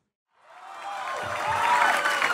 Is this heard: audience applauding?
yes